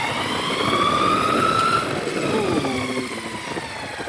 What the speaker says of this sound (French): ce longboard, il fait beaucoup plus de bruit, mais c'est à cause de la puissance. Exemple, je vous montre une accélération.